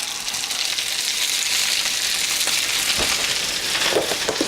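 Baby spinach cooking down in a frying pan gives a steady, even sizzle that fills the whole span at close range, with a few brief pops and crackles and no voices.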